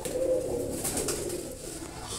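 A running pigeon gives a low, soft cooing that hums continuously, close by, against faint background noise.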